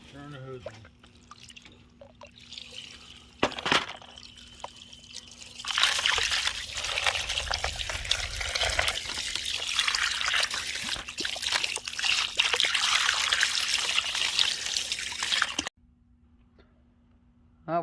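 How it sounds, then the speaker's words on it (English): A garden hose runs water over freshly tumbled stones, a steady broadband splashing rush that swells loud and holds for about ten seconds before cutting off abruptly, with a low hum underneath and brief talk before the flow starts. "Turn the hose on."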